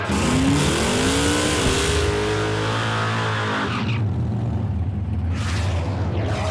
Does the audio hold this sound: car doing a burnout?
yes